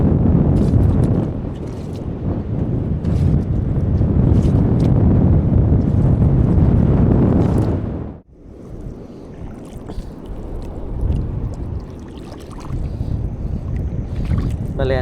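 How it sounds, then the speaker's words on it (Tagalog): Strong wind roars steadily across the microphone over open water, dropping off abruptly midway and then continuing more quietly with faint rustling. "sobrang lakas ng hangin dito"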